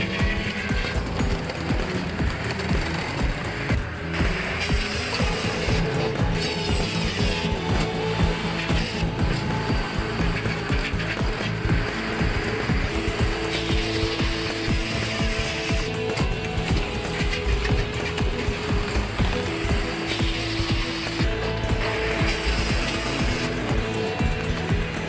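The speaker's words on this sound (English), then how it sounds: "efficiently converting large logs into premium firewood with minimal manual intervention" A firewood processor machine cuts and splits large logs, giving a loud, steady mechanical drone with grinding and tonal whirring that runs unbroken throughout.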